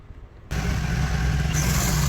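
Motor scooter ridden on a road, a steady engine drone with wind rush that starts abruptly after half a second of quiet and holds loud and close to the end.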